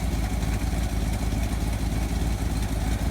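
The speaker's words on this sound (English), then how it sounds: "It's going to start to want to choke and die if I let it run." A Chevy Cheyenne C20 pickup truck engine running rough at idle, a loud close low rumble with uneven pulsing beats, as if about to choke and stall.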